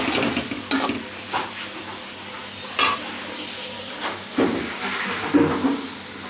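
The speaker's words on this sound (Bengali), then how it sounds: "আর এক চুলায় মগজ ভুনা করছি" Brain curry fries with oil and spices in a pan on a stove. A moderate sizzle runs under intermittent scraping and clinks of a spoon stirring against the pan.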